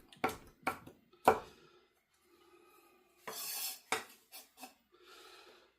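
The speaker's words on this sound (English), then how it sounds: "we're just going to quickly run our knife through" Knife run quickly through crushed garlic on a cutting board: a few sharp taps and clicks in quick succession, then scraping strokes and lighter knocks, close and fairly quiet.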